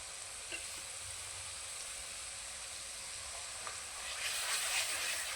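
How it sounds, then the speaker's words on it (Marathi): Masala hits fried chillies in hot oil for a Marathi khar vang, giving a steady, close sizzle with a soft stirring scrape that swells into a louder, brighter hiss near the end. "तर त्याच्यामध्ये आपण बनवलेला मसाला टाकून घेऊया."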